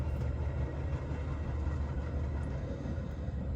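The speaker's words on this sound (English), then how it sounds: "It's actually train number 2," A Metro commuter train with newer locomotive power rumbles past heading out to the suburbs, a steady, loud low-frequency roar that holds for the full few seconds without letup.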